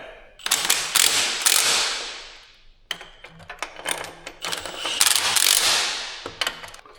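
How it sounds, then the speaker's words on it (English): Bolts are cranked down with a ratchet on a 73-year-old CAT machine, making bright rapid clicking runs in two long bursts, close and loud, with no voices. "Get some bolts in this thing and crank her down."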